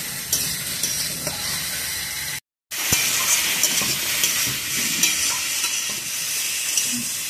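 Brinjal and potato strips with salt fry in oil, a steady dense sizzle with occasional stirring clatter, close and continuous apart from a brief dropout near the middle.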